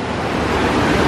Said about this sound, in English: But you get a nice look at the waterfall